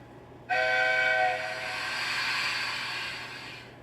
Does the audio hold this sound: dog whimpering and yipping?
no